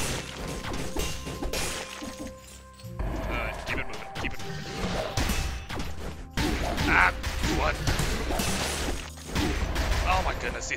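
Bombs bursting in the action game Dead Cells, a busy run of crashing, shattering impacts and whooshes stacked over steady game music, with a voice talking over much of it.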